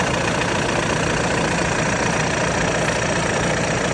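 A worn, rough-running Audi A3 three-door with a 2-litre TDI diesel idles in a steady, dense drone, loud and close with no breaks, and no voices.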